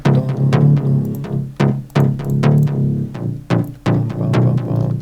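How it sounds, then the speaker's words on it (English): Zebra 'Boombox' preset used as the main bass synth in a house track, playing loud, punchy plucked bass notes in a steady rhythmic pattern with no other sounds. "It's a main bass synth."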